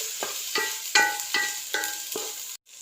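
Fried mussels being stirred into a masala for mussel biryani, with about seven distinct scraping, clattering stirs in a steady rhythm over a faint sizzle, close by and with no voices.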